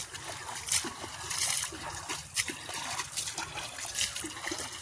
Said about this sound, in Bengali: বিকেলবেলা এখানে এসেছি, জল দেবো, যতটা জল লাগে জল দেওয়া হবে